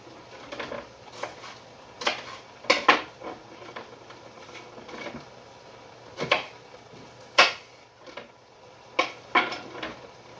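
Clinks and scrapes of a utensil against a bowl while seasoned pork with salt, pepper, onion and garlic is mixed, irregular close knocks and clatters with no talk.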